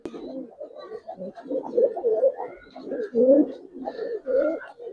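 Giribaz and coloured pigeons coo close by in repeated soft, throaty bursts that rise and fall over several seconds. Calls overlap from more than one bird.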